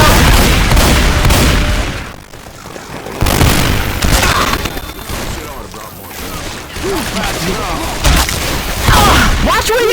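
Bursts of gunfire and booming blasts in a cooperative shooter video game, loud and nearly continuous across the span, with short lulls and voices talking over the action.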